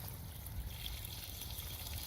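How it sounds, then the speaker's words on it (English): Water thrown onto a newly installed French drain beside cleaned brick in Orlando, Florida, draining away in a faint, steady trickle and wash that continues without a break. "we can throw all the water we want now in here"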